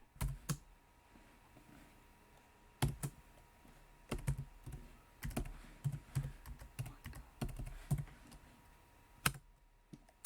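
Close-up typing on a computer keyboard while logging into a Raspberry Pi over SSH, with scattered bursts of crisp key clicks and short pauses between them, quiet and with no speech.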